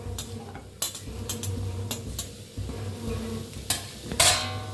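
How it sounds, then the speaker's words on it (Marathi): Steady sizzling of onions frying in a kadai, with intermittent sharp clinks and scrapes of a utensil stirring against the metal. "कढई ठेवलेली आहे, कांदा भाजून घ्यायचा आहे"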